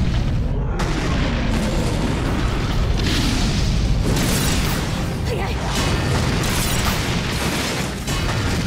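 Loud, dense rumbling cannon booms from a Naruto Ultimate Ninja Storm boss battle, repeated blasts blending into a continuous roar with a voice shouting over it.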